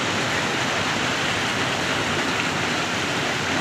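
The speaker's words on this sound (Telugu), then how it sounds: "water flow" Water rushes steadily through a canal, a dense, even roar of flowing current lasting the whole stretch with no voices or breaks.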